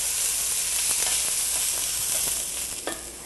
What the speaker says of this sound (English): so let's throw that garlic right on top